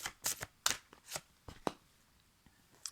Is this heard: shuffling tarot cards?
yes